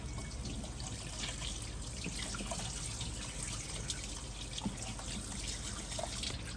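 Tap water runs steadily while fish is washed at a kitchen sink, a close, continuous gush and splash with small irregular drips and spatters throughout and no talking.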